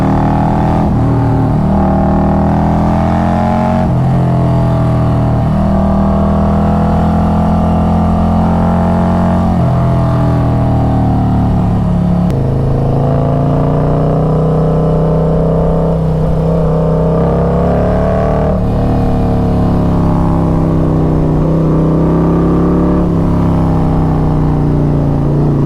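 A Harley Road Glide with a Stage 2 setup and Khrome Werks Outlaw exhaust revs loud and steady, with its engine pitch rising and falling through several long throttle swells, no voices over it.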